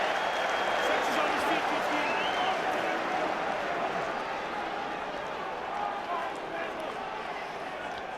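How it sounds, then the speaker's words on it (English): A large home crowd at a Leicester v Ulster rugby match roars and screams continuously, a dense wash of cheering at moderate distance, with a commentator's voice faintly underneath. "Getting the screams from the home crowd."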